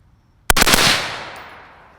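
Single shot from a suppressed 10.5-inch rifle: after half a second of near silence, one sharp, loud crack with a quick flurry of echoes, then a long fading decay.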